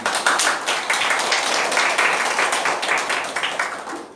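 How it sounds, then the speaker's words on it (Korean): Steady audience applause for a lecturer at a Catholic cultural centre eco-spirituality lecture, many hands clapping densely and evenly for about four seconds, with no talk over it. "그럼 오늘 그 열띤 강연해 주신 우리 양기덕 스테파노님께 다시 한번 박수 부탁드립니다."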